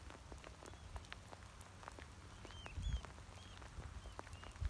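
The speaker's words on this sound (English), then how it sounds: "And the rain is lessening." Soft, steady rain patters on a surface with scattered drops and a few faint bird chirps in the background; no one speaks.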